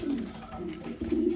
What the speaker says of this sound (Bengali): নিউ অ্যাডাল কবুতর